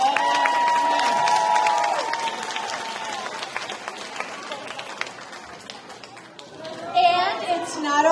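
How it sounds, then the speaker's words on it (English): An audience at a spring recital breaks into applause and cheering, strongest at first then fading, with voices and music sounding underneath and near the end. "Let's give it a round of applause once again for all of our"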